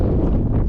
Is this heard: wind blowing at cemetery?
yes